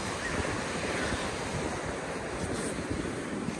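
Winter sea waves wash onto the Baltic coast at Jastarnia in a continuous, rushing surf roar, with gusty wind buffeting the microphone throughout.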